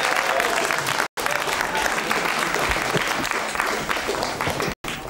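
Steady, dense applause from a television studio audience fills the whole stretch, with two abrupt brief cutouts; some voices mingle faintly beneath the clapping.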